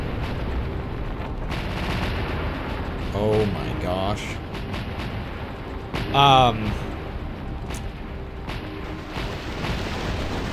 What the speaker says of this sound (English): Oh, look how good those explosions do look, though.